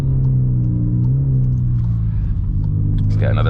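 A Stage 3 VW Golf R rated at 500 bhp pulls hard in second gear on a winter road, its engine a loud steady in-car drone that rises in pitch, with a voice talking over it near the end.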